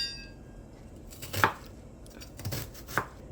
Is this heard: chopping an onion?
yes